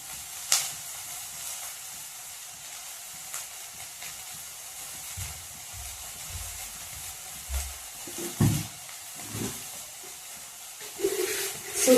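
Sliced onions sauté in a hot pan while soybeans are being cooked, giving a soft steady sizzle and hiss, faint and continuous, with a few clinks and scrapes near the end.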